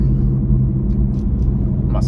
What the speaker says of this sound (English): That was definitely a General Motors product of some kind.